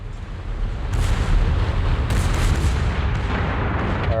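Warship guns in World of Warships fire a broadside in a few heavy, booming salvos. The rolling blasts are loud and close, and a steady low rumble of gunfire fills the gaps, with no talking.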